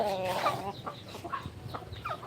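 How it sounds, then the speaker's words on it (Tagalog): Backyard chickens clucking nearby at feeding time, a few short throaty calls over a low background murmur. "Backyard chicken."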